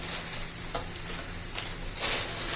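A steady, soft scraping swirl with light sizzling comes from milk and sugar being stirred continuously in a pan for chocolate modak, close and unbroken throughout.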